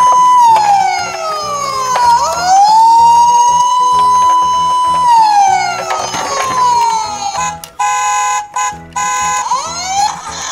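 A toy police car siren, a mini Toyota Crown patrol car, wails up and down in repeated sweeps, then switches to a rapid choppy yelp pattern, loud and close.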